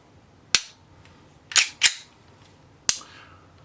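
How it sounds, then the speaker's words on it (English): A folding Glock conceal frame snaps together in sharp, close plastic-and-metal clicks: a single snap, then a quick double, then another single, with quiet between them. "But snap it together, and now it is functional."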